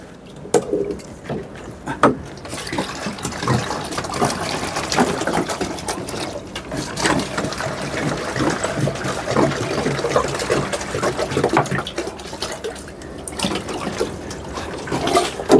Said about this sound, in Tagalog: Dali, maglagay tayo ng tubig.